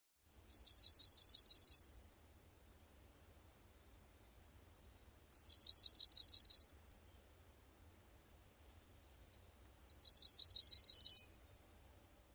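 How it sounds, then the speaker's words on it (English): A black-throated green warbler sings in an old-growth hemlock forest at Ice Glen in the Berkshires, with three clear buzzy, high-pitched phrases evenly spaced in near silence. "Another long-distance migratory warbler that you can find in this forest is black-throated green warbler"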